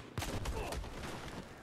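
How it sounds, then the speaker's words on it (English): Explosions and gunfire in the video game Battlefield 4, a rapid cluster of sharp gunshots and blasts over a low rumble, fairly quiet in the mix. "There's just like a bunch of explosions and I got destroyed."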